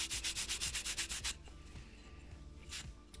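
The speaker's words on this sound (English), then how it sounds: "get the driest part of your cloth you can and just scrub as much off there as possible" Dry kitchen roll scrubbed hard across a coated coaster to wipe off excess coating, a fast rhythmic rubbing of about a dozen close strokes, then a few softer, scattered rubs.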